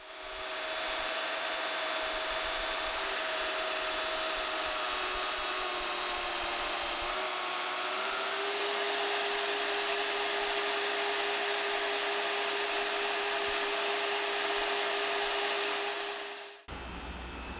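A power tool cuts the excess off a steel blank for an integral hidden-tang knife, a steady, loud whirring drone held continuously for about sixteen seconds before it winds down and cuts off abruptly.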